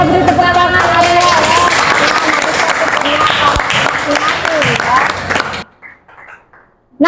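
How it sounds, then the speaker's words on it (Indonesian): Students in a classroom break into loud, sustained clapping that fills most of the clip, then stops abruptly into near silence. "kita beri tepuk tangan ya"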